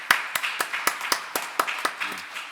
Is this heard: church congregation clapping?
yes